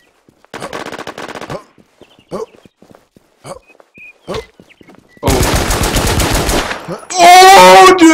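Gunfire in a video game, with a Jericho pistol in use: a quick rattling burst of shots, then scattered single cracks, ending in loud, dense, sustained firing.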